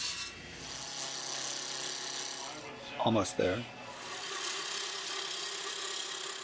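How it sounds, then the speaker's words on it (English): A walnut cylinder being turned for a handle on a wood lathe gives a steady, close rasping and rubbing under the hum of the running machine, with a brief spoken remark in the middle. "I'll start with a piece of walnut and turn it into a cylinder for the handle."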